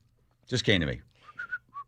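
A man whistles a short rising-and-falling whoop imitating a police siren, then a few brief higher whistled notes, close and solo in an otherwise quiet room.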